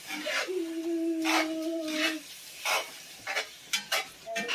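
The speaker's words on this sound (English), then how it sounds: "Now let's stir that around right good." Food is stirred in a cooking pot in short scraping bursts near the listener, with a thin squealing whine over the first two seconds and a few quick knocks at the end.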